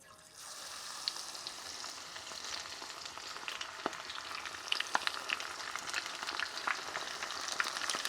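Battered chicken-fried lobster bites drop into hot oil at around 382 degrees and burst into a loud, dense crackling sizzle that holds steady, with scattered sharp pops and spits, close up and without talk.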